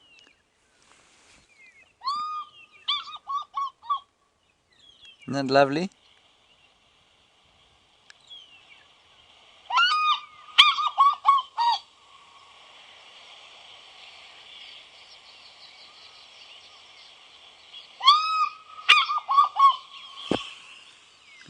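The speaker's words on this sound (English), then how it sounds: "For many, many people, the sound of the fish eagle is the best possible call." African fish eagle calling from a played recording on a sunrise safari drive, several loud ringing bursts of yelping calls in three bouts separated by quiet gaps, with a brief sharp knock and a short spoken remark between them.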